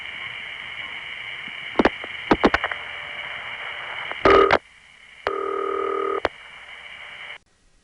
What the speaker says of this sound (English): You can hear the gonging.